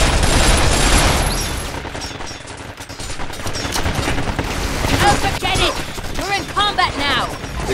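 Rapid automatic gunfire from the video game Binary Domain, loud bursts and fusillades layered over a combat soundtrack, with game characters talking amid the shooting.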